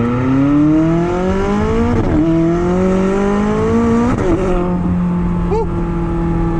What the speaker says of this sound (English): the first thing you notice is the exhaust is right behind you.